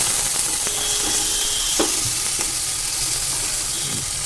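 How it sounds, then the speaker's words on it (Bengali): Onion, garlic and ginger paste frying in a pan, a loud continuous close sizzle and hiss with a few faint stirring clinks, no voices. "আদা বাটা দিয়ে ভালো করে মিক্স করে ফ্রাই করে নেব।"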